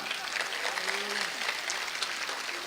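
A crowd at a comedy poetry recital applauds in honour of soldiers, a thick, continuous wash of clapping held at an even level, with a faint voice surfacing briefly beneath it.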